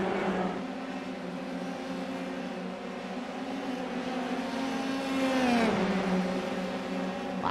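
Formula 3 race cars lap Watkins Glen in a sim racing game, their engines holding a steady high whine that shifts pitch as they downshift and pass through the slipstream.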